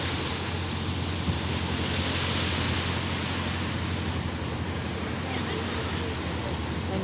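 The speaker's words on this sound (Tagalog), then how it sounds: "Grabe yung ay, ang ganda ng alon." Sea surf at a swimming shed on the Hong Kong shoreline, a steady broad wash of waves with wind buffeting the microphone, continuous and fairly close, with some faint talk in the background.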